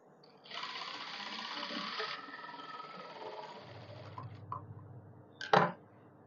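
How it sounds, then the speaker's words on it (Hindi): A sewing machine stitches fabric for palazzo pants in a steady whirring run of several seconds, close and clear, followed by a lower hum, a few small clicks and a sharp mechanical clack at the end. "ये जो हमारा फैब्रिक दिख रहा है नीचे वाला इस पे हम सिलाई लगाएंगे यहाँ तक"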